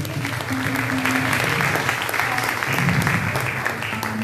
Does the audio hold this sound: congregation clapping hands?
yes